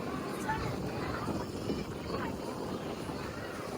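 Steady engine drone and water rush from a moving RoRo ferry, continuous and fairly quiet, with low voices blending in.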